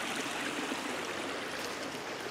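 A California creek rushes steadily downhill, a dense, even hiss of flowing water close by that stays constant for a couple of seconds with no voices.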